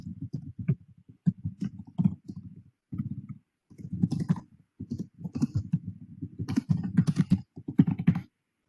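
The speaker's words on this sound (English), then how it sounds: "I'm going to start typing in an answer" Fast irregular typing on a computer keyboard, close and clear, with bursts of soft key clicks and brief pauses between runs and no voices.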